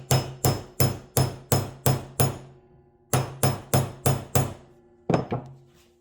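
A hammer taps on a Kydex sheath in quick, even bursts: seven sharp knocks, a short pause, five more, then a final double tap, all close and crisp with no talk.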